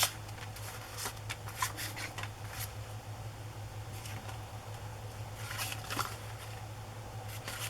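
Paper journal tags being trimmed with scissors, a run of quiet, brief snipping and rustling sounds against a steady low background hum, with no talking.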